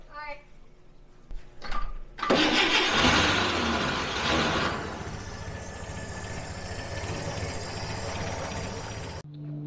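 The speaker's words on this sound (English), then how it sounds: "Try to fire it back up." A 1959 Chevy Apache truck engine cranks, catches and roars to life close by, then settles into a steady, loud rumbling idle that runs until it cuts off near the end, with brief voices at the start.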